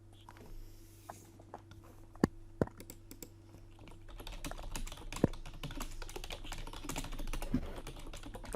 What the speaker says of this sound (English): Nice keyboard clicking.